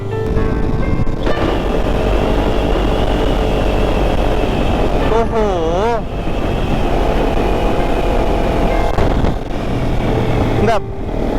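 A Kawasaki Ninja 300 motorcycle is ridden on the road, its engine a loud steady drone under heavy wind rush, with a voice briefly heard over it.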